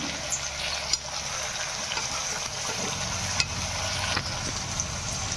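Onion and vegetables fry with turmeric in a pan for palav, a soft steady sizzle broken by occasional scraping clicks of stirring, close and moderately quiet.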